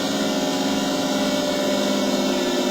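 A motorcycle engine in the racing game Riding Spirits 2 drones steadily and loudly at an even pitch throughout, with a constant buzzing hum and no breaks.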